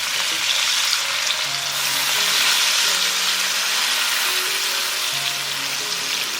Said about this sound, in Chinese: 加入生抽、蚝油，加入盐、白糖，等它翻炒香。